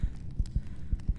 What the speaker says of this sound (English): you can hear her heart beating